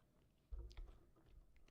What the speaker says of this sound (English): It's crunching.